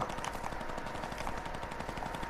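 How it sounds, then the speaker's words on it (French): A minigun fires in a video game as a faint, continuous stream of rapid shots with a rattling texture, heard at a distance without any speech. "j'ai entendu minigun"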